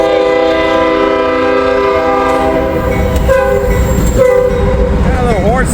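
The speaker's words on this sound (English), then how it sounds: "Got a little horn salute." A Union Pacific freight train passes in Ohio with a loud, sustained multi-tone horn salute, the chord holding for several seconds and then shifting pitch over rumbling wheels.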